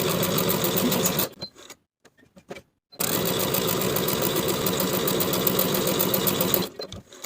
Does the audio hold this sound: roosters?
no